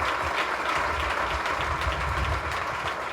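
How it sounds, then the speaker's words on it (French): Steady applause for graduates at a French-language graduation ceremony, a continuous moderately quiet patter of many hands clapping from a crowd, sustained without a break. "Applaudissez-les"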